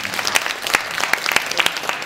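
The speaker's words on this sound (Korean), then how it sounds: "박수 한번 부탁드릴게요" A small audience at a casual Korean talk-show style gathering in a pocha-themed setting gives a short burst of clapping, individual claps standing out close and uneven.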